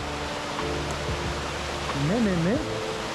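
A salt-water waterfall in the Aude rushes as a steady, broad roar close by, with a voice speaking faintly over the continuous wash of falling water.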